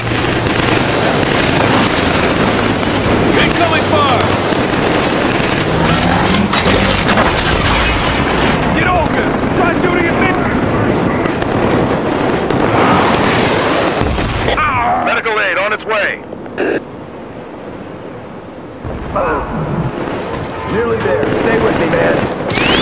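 Heavy gunfire and explosions in the shooter Killzone 3 pound close and loud in dense bursts, with booming blasts, then thin out into sporadic shots as voices shout over the battle.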